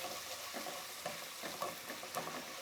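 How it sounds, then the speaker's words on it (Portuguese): Garlic and chopped onion fry in a pan, a soft continuous sizzle with light stirring scrapes recurring every half second or so, quiet and close, with no talking. "Coloquei o alho, a cebola. Vou deixar ela dourar."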